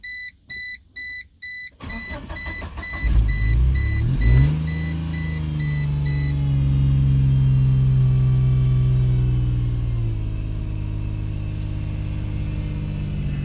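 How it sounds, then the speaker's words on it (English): A cold 1999 Geo Metro with a clogged catalytic converter: door chimes beep in a quick series, then the starter cranks briefly before the small engine catches and settles into a steady, close idle that rises slightly then eases. "Let's see if it'll fire up though."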